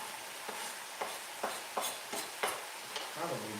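Onions and sausage browning together in a pan for spaghetti meat sauce, a soft steady sizzle broken by regular scraping stirs roughly every half second, faint and close with no talking.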